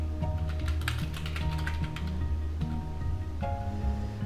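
Steady tapping of keys on a computer keyboard while entering text in Microsoft Word, continuous irregular clicks over a loud, constant low hum.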